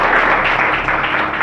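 A church congregation applauds at a gathering in Kolkata, a dense, steady burst of clapping from many hands with no voice over it.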